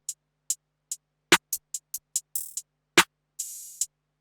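Sparse electronic percussion hits layered into a hip-hop/R&B beat: crisp, dry clicks and snappy hits land one at a time in an uneven pattern, with a brief sizzling, noisy tail near the end.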